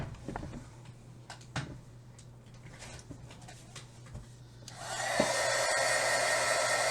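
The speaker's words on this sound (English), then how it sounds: "I'm going to kind of need to dry this, I think, guys." A hair dryer switches on near the end to dry paint on an artist trading card, a loud steady close-up whoosh following several seconds of quiet tapping and light handling sounds.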